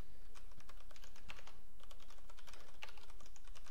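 Rapid clicking of keys on a computer keyboard as a Rails migration command is typed, a steady close run of keystrokes with no talking.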